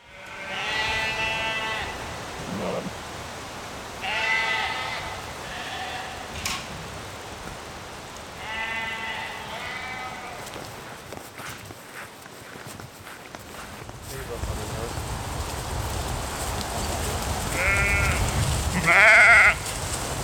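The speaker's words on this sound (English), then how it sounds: "20 sheep and a few lambs" Sheep and lambs on a small British farm bleat several times at close range, loud wavering calls separated by quieter stretches of rustling and footsteps.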